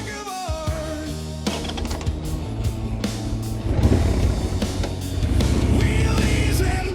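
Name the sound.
Harley-Davidson Sportster 883R motorcycle engine riding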